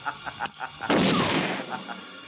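A single loud gunshot in a film as a crime boss shoots a man in the head, a sharp broadband blast at close range that cuts off some quieter talk and then trails away into a noisy tail.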